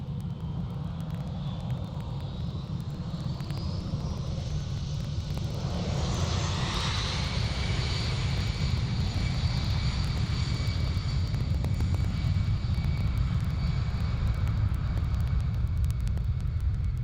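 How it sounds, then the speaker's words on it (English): Turkish Airlines Airbus A330 on takeoff at Amsterdam, a steady loud jet engine roar with deep rumble that builds and rises in pitch as thrust increases, then holds a sustained whine and roar throughout. "Definitely a bit of noise on that Turkish A330."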